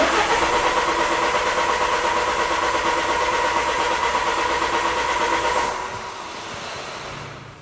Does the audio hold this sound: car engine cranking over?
yes